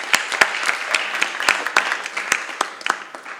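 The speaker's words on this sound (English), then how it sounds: "So a round of applause for them in absentia." A small audience claps for absent staff members at a journal editors' roundtable, a sparse scatter of distinct, fairly close hand claps with no talking over it.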